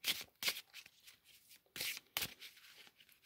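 Oracle cards are shuffled and drawn during a mediumistic card reading, giving several brisk, papery riffles and slaps close by, with short pauses between bursts.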